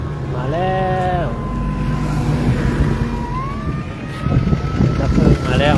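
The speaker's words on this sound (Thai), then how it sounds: "ดับเพลิงมาแล้วเนาะ" Wailing siren of a fire engine arriving at a house fire that has spread to several homes, rising and falling through the scene over a steady engine rumble, with voices talking nearby.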